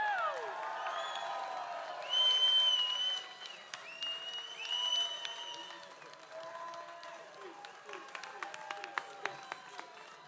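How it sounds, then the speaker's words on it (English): Audience applause at an evening honoring event, a dense patter of clapping with whoops and cheers, fairly distant and sustained, mixed with whistling tones. "one big round of applause for Mr. Tommy Mule."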